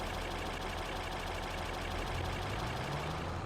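A tractor engine in Farming Simulator 22 idles with a low, slightly knocking rumble, unchanging and continuous throughout, with no voices over it.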